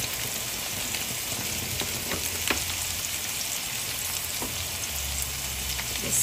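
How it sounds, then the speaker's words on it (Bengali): Spices lightly frying in a pan, giving a steady, even sizzle with a few faint stirring taps, without any talk. "যে কারণে আমি মশলাটা হালকা একটু কষিয়ে নিচ্ছি।"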